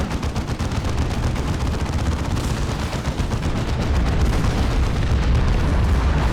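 Dense, continuous gunfire in the Warhammer 40,000: Dawn of War II Chaos Rising video game: loud, rapid rattling bursts overlap with booming impacts throughout.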